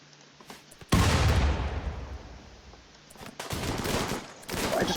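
Gunfire from the video game RimWorld, a loud sudden fusillade of overlapping shots bursting in near the start and rattling on continuously, easing slightly in the middle before swelling again, with no talk over it.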